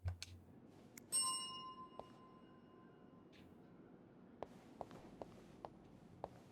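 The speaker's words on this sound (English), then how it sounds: "But let's ring the bell" A bell in the game This Bed We Made gives one bright, ringing strike that decays slowly, followed by scattered soft taps and clicks in a quiet room.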